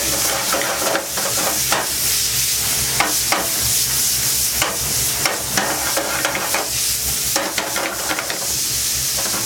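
Bacon fries in a pan, a dense, continuous sizzle and crackle with frequent small pops and occasional stirring scrapes, close and loud, with a brief word spoken over it.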